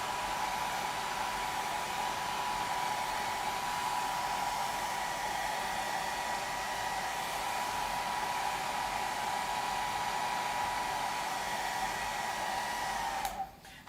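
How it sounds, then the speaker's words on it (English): A handheld hair dryer blows steadily on a sheet of watercolor paper, a loud, even whir that holds unbroken for about thirteen seconds before cutting off abruptly at the end. "wait for a few seconds after you're done with your hair dryer"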